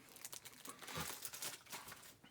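Plastic packaging around a set of futuristic dice from a Railroad Ink challenge and expansion box is crinkled and torn open, a close, steady rustle of crumpling and ripping with no talk over it.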